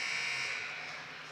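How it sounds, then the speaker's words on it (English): A loud, steady electronic buzzer sounds to end the first quarter of a women's university basketball game in a gym, a sustained tone that fades slightly with no talk over it. "there is the buzzer, ladies and gentlemen, after 1 quarter of play"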